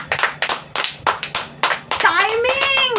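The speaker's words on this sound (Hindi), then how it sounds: "प्लीज ताली बजाओ यीशु के लिए।" Children clapping in short rhythmic bursts of hand claps, several rounds in quick succession, with a voice or squeal rising over the last claps.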